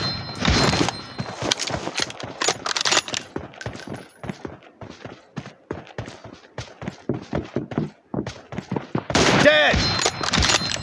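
Rifle shots from an M24 sniper rifle and other gunfire ring out in a PUBG Mobile team deathmatch, sharp loud cracks in rapid bursts with short gaps, the heaviest volleys at the start and near the end.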